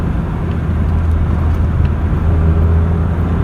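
A 37-year-old Mk2 Cavalier SRi130 driving along a scenic road, its engine a steady low drone with road and tyre rumble, loud and constant throughout, no talking.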